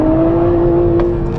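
A 2023 Nissan Z engine holds a loud, steady high-revving drone near the rev limiter, a sustained tonal whine over a throaty rumble with slight flutter near the end, no talking.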